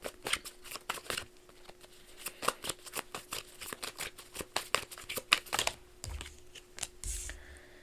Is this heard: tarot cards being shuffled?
yes